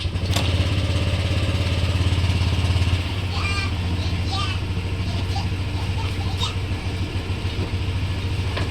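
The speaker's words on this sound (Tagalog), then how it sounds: "Yan yung talagang normal na idling speed ng Click 125" A Honda Click 125 scooter engine idles at a steady, close rumble throughout, with a slight drop in level after about three seconds. People talk faintly over it.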